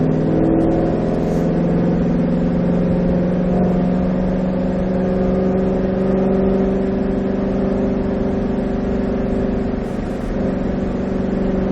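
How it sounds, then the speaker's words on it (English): A Ford Shelby GT500's V8 drones loud and steady from inside the car as it pulls in third gear on a race track, the engine note rising gradually with no talk. "Upshift into 3rd, and we can start picking up the speed a little bit."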